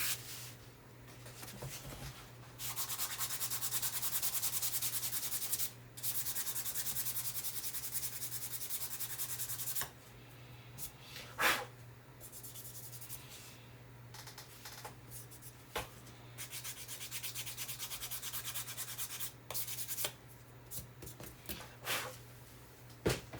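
Sandpaper rubbed by hand across a wooden fence peeker, a steady close scratchy rasp in long strokes broken by short pauses and a few sharper scuffs, with a low steady hum underneath.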